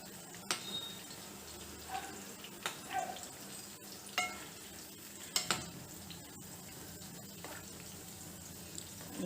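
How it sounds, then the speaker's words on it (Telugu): Brinjals deep frying in oil with occasional stirring, a faint continuous sizzle broken by sporadic soft clinks and scrapes of a utensil in the pan, no talking. "బ్రౌన్ కలర్ వచ్చేదాకా వేయించుకోవాలి. మధ్య మధ్యలో వంకాయలు కలుపుకుంటూ ఉండాలండి నూనెలో."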